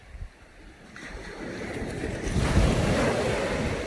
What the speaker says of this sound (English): Just love the noise of the sea.